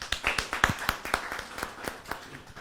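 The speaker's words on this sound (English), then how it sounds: "Another round of applause for our CEO." A small audience claps at a sales masterclass, a few seconds of brisk, fairly close hand claps that thin out quickly.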